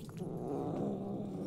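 A cat in the video game Murdered: Soul Suspect gives a steady, low, rumbling purr or growl that holds for the whole moment at moderate volume, with no talking.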